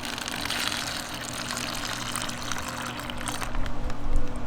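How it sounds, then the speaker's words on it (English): Water is poured into a backpacking meal pouch outdoors, a continuous splashing fill with steady rushing noise that grows louder and more turbulent near the end. "We're going to put our water in."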